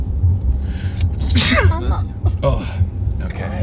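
A single human sneeze bursts out in the middle, loud and close, with a person talking briefly before and after it.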